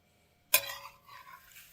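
Cooked sweet potatoes tipped from a pot into a bowl, with a sharp clatter and splash at first, then softer sliding and clinking that fades out over a second or so, close by, with no talk.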